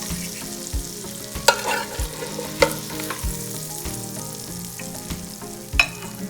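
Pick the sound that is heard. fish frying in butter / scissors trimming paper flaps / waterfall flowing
fish frying in butter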